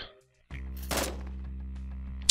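A mounted pistol fires a quick burst of shots in Yet Another Zombie Defense, sharp against a steady droning game background with no voice present.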